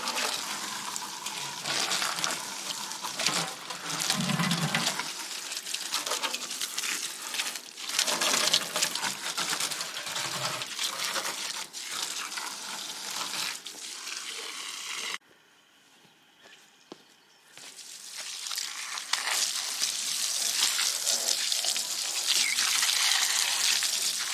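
Water from a garden hose washing down a muddy yard area, a steady broadband gush and spray with a brief quieter pause partway through, close and loud with no talk.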